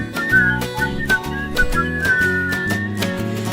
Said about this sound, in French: Siffle si tu veux siffler.